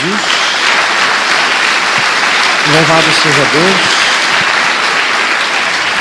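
Church congregation clapping together, a steady dense wash of applause filling the room while a voice speaks briefly over it.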